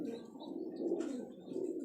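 Pigeon of a newly bred line, a first-year young bird kept by a Karachi pigeon fancier, cooing softly and steadily, a low continuous murmur with a few faint chirps over quiet background.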